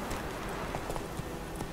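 Horse hooves clip-clop in The Witcher 3: Wild Hunt video game, a steady rhythmic trot heard fairly faintly under broad background noise.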